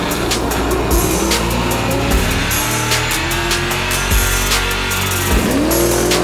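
Race cars at Holley LS Fest drifting and drag racing: loud, continuous engine roar with repeated rising revs, gear changes and squealing tires as cars pass close by one after another.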